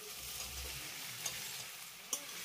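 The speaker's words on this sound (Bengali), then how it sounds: "আলুটাকে আমি এই মশলার সঙ্গে দুই মিনিটের মতো এইভাবে একটু কষিয়ে নেব।" Boiled potatoes sautéed with spices in a pan for shukto, giving a steady low sizzle with two sharp spatula scrapes, close and alone.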